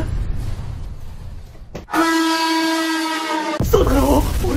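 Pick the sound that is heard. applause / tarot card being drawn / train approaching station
train approaching station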